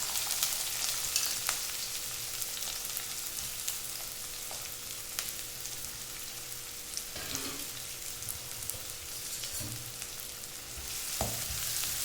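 Finely chopped onions sizzling steadily in a generous amount of hot oil in a pan for a mushroom pepper fry, a constant close crackle with occasional stirring clicks and no talk.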